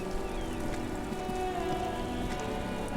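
Steady rain falls in the video game Disco Elysium, a continuous soft patter on surfaces that holds at an even level the whole time, layered over low ambient tones, with no talking.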